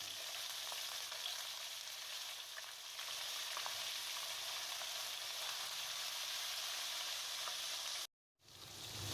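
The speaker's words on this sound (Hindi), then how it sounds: "लहसुन अदरक भी हमारा भून चुका है।" Garlic ginger paste frying in a pan while cooking lobia chawal, a steady close hiss and sizzle with faint stirring, then a brief silent gap near the end.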